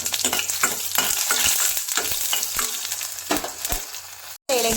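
Mustard seeds and dried chilies fry in hot oil with a steady, loud sizzle, broken by sharp crackles and pops of bursting seeds and a brief stir near the end.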